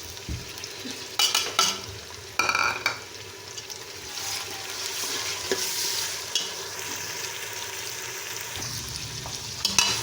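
Minced meat keema with added paste frying in a pan for a beans keema dish: a steady close sizzle runs throughout, broken by a few sharp spoon scrapes and stirring clatters.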